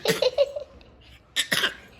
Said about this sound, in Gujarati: એમ કેમ કેમ ઉધરસ આવે?